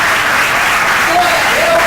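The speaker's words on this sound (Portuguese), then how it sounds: "Você pode aplaudir o Senhor por isso." A church congregation applauds at a sermon, with a broad, steady wash of clapping close by. A voice speaks faintly over it near the end.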